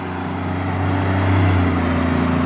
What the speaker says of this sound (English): Ooh, big dump truck.